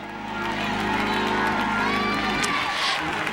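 Church congregation clapping and shouting in praise, a dense, loud, steady wash of crowd noise and cheering voices that swells throughout, with a brief sharper burst near the end.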